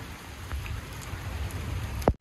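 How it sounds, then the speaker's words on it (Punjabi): Heavy rain pours steadily on a farm near a maize field, a constant close hiss of drops on surfaces, broken near the end by one sharp, loud knock. "ਮੀਂਹ ਕਾਫੀ ਤੇਜ਼ ਹੋ ਗਿਆ"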